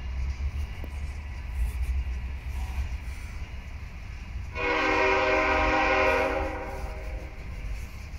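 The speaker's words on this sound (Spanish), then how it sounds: "Oh, el freno dinámico, qué hermoso se escucha." A locomotive's dynamic brake gives a steady, loud mechanical roar and rumble throughout, with a sustained horn blast rising over it partway through.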